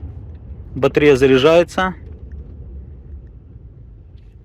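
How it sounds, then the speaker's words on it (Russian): A Range Rover hybrid's diesel engine runs as a steady low rumble throughout, while a voice announcement plays briefly over it near the start. "Сейчас у нас запустился дизельный двигатель."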